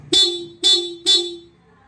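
Three short, bright honks from the small horn of a Honda PCX 160 scooter in quick succession, close and loud, with a thin, high-pitched tone.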